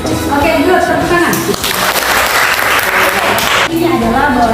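A classroom group in an Indonesian teaching session bursts into loud, close clapping, with voices heard at the start and end of the applause.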